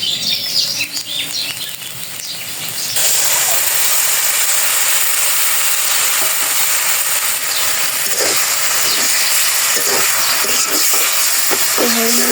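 Spice paste hitting hot oil in a pan, a sudden loud, broad sizzle that starts after a few seconds and holds steady with occasional clinks, close by, following quieter kitchen sounds with no clear speech.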